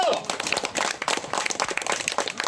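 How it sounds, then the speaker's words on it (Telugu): An audience at a village prize-giving event in Dasaripalle, Kadapa district, applauds in dense, sustained clapping close by, with voices faintly mixed in. "కొట్టండి క్లాప్స్ కొట్టండి"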